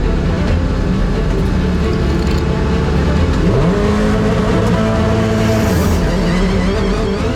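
Rally car at Goodwood launching at full throttle, loud sustained engine roar with a rising rev sweep midway as it pulls away, close and continuous.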